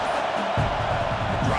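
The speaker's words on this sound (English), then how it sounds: "the crowd coming to life here, trying to help this defense down in the red zone" A stadium crowd roars steadily during a college football game in College Football 26, Ohio State Buckeyes at Michigan Wolverines, a dense loud wash of cheering with a faint voice mixed in.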